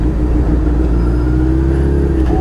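A BMW convertible with its top down drives past, its engine a steady, fairly loud low rumble that holds through the whole moment.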